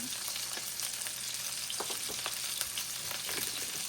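Burger patties sizzle in a hot frying pan on a stovetop, a steady crackling hiss with scattered sharper pops, fairly quiet and close with no one speaking.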